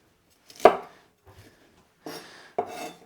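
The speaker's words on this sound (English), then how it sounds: "I have some celery left over. I'm just gonna chop the ends off." A knife chops through the ends of leftover celery on a board: one sharp cut, a couple of faint taps, then two more firm chops, close and clear with no voices.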